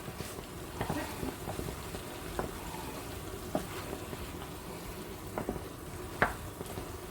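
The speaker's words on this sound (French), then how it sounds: "nous mélangeons les fruits" A spoon stirs sun vegetables for pasta in a pan with a soft sizzle, giving irregular scrapes and clacks every second or so over a steady low frying hiss.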